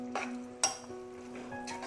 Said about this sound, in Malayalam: ഇനി നന്നായിട്ടൊന്ന് ഇളക്കി കൊടുക്കണം.